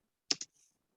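Two quick keystrokes on a computer keyboard during a computer-class lesson, close and crisp, followed by a faint softer tap.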